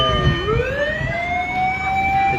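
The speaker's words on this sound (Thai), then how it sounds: "ดับเพลิงของหน่วยกู้ภัย 1623มาฮอดเป็นคันแรกเนาะ" Rescue unit fire truck siren arriving at a house fire in Thailand, a close, loud electronic wail that dips and then sweeps steadily upward in pitch over the rumble of the truck.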